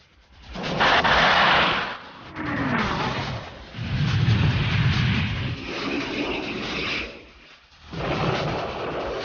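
Fighter interceptors making demonstration missile launches against unmanned aircraft targets, heard as deep rolling booms and roaring rushes in repeated waves, loud and without speech.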